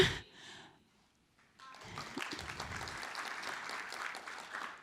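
An audience at an education summit session breaks into applause after a moment of near silence. The clapping is soft and distant, builds quickly and holds steady.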